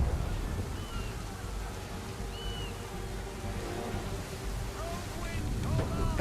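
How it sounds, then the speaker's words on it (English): Strong wind gusts at sea in Assassin's Creed 3, a steady broadband roar of wind and water around a sailing ship, with faint calls mixed in. "Heavy gusts, Captain."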